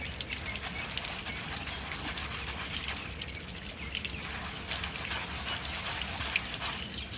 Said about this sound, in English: you rinse it really, really good right after getting out of the mud